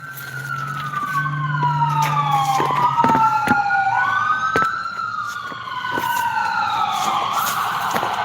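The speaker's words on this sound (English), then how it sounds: "Ambulance." An ambulance siren wails past outdoors, loud and near, its rising and falling tone sweeping and shifting in pitch as the vehicle goes by, with traffic rumble underneath.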